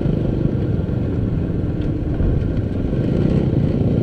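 Yamaha XT110 motorcycle ridden on the road to Paso de Cortés, its small single-cylinder engine droning steadily and loudly at close range, mixed with wind rumble, with no talking.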